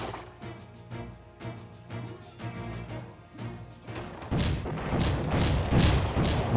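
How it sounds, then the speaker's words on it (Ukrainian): Tower and cannon fire in the strategy game Cossacks, a run of dull thuds and booms that grows denser and louder in the second half, with no voices over it. "Башта стріляє дуже швидко"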